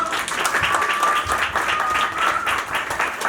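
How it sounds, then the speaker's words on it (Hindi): A crowd applauding steadily, dense and lively clapping that fills the whole moment without pause. "तो आपकी भरपूर तालियों में"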